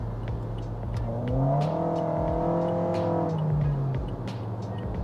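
Toyota Yaris G-Limited accelerating in sport mode, its engine note rising in pitch as revs climb then easing off, heard from inside the car at moderate volume with road noise underneath.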